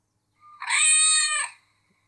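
Cat meow alert from the DevCommander app's cat flap trigger, a single clear, drawn-out meow rising and fading over about a second against silence.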